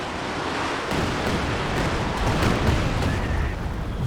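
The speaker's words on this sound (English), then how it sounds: "Here we go, whiff of barrage coming out." Rumbling artillery barrage in Company of Heroes 2 on the Across the Rhine map, a dense wash of booming explosions and debris noise rolling continuously with no clear gaps, loud and broad.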